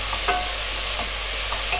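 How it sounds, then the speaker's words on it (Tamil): Cut radish and tomato sauté in a pan, with a soft continuous sizzle and a few light spoon scrapes and taps stirring them, heard up close over a low background hum. "கட் பண்ணி வச்சுருந்த முள்ளங்கியை சேர்த்துக்கலாம்."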